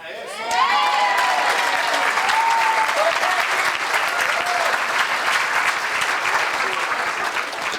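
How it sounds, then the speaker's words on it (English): At a community forum celebrating immigrants in Marin, an audience gives the interpreter a long, loud round of applause, sustained and even for about seven seconds, with a few whoops and voices rising over the clapping near the start. "I want everyone to give a round of applause to the interpreter"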